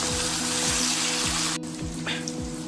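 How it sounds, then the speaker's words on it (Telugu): Brinjal pieces fry over a medium flame in a pan for a dry fish curry, giving a steady close sizzle with a few soft stirring scrapes and a sharp clink midway. "ఈ విధంగా మనం వంకాయలో ఉన్న పచ్చితనం పోయేదాకా వేయించుకోవాలి"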